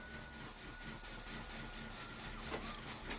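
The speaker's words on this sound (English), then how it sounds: "like this new sound that they give these generators" A generator starting up in the Dead by Daylight video game gives a steady, chugging mechanical rumble like a train engine, continuous and fairly loud throughout, with a brief clank near the end.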